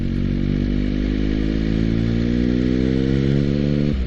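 Motorcycle engine note falling steadily as the rider rolls off and changes down to a lower gear approaching a blind bend on a 30-limit road, a continuous droning hum that drops away sharply at the end.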